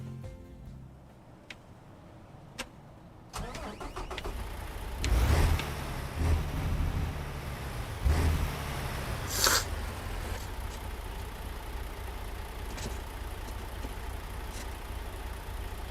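A truck engine in the video game American Truck Simulator cranks and turns over after a quiet start, then settles into a steady low idle that continues to the end.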